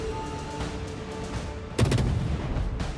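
Naval guns of a Z-52 destroyer firing in a naval combat video game: a sudden loud, close volley of blasts with a rumbling tail that stands out over steady background game noise.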